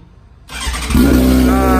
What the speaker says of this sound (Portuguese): Essa moto ainda liga, pai? Do jeito que tá aí? Liga.